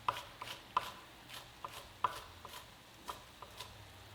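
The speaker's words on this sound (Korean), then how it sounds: "양파는 채 썰어서 준비를 해 주시고요." A knife julienning onion on a cutting board for a beef rice bowl: a dozen or so crisp, close chops land at an uneven but steady pace, with quiet gaps between strokes.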